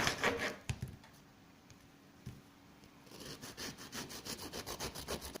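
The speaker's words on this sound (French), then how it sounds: "Je prends un couteau à dents" A serrated knife saws through a still-warm savoury cake, giving rough rasping strokes at the start and a quicker, rhythmic series of cuts after a brief pause, close and soft.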